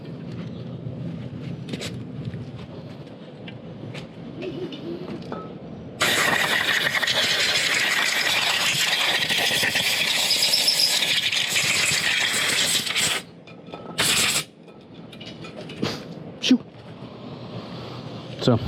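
Compressed air blasting motorcycle CVT transmission parts clean during a Honda PCX150 CVT upgrade with an NCY Super Transmission kit, a loud steady hiss lasting several seconds, then short bursts after a pause.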